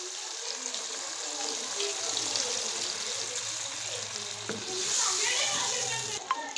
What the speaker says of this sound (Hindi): थोड़ा सा पानी, 1 कप पानी का डालेंगे।